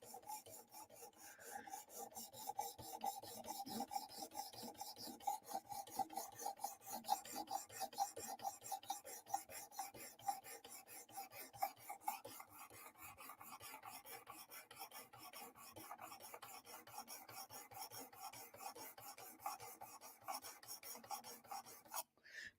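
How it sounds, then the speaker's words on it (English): A blade is sharpened by hand on a stone with steady, rapid back-and-forth rasping strokes that continue evenly throughout, fairly quiet and close. "We're just hanging out, sharpening."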